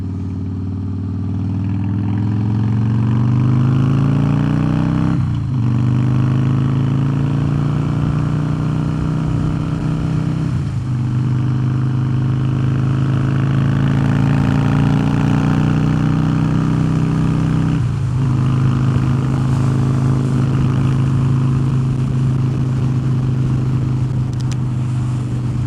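A 2016 Harley-Davidson CVO Pro Street Breakout with a Twin Cam 110 engine rumbles loudly and continuously while riding, rising through gears with several shifts and steady engine drone, no talk over it.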